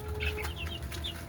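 Native desi chickens and young chicks kept on a rooftop cluck in a quick series of short, close calls over a low background hum.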